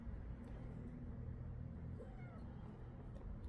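A cat meows a few times, soft and fairly close, over a steady low rumble of background noise.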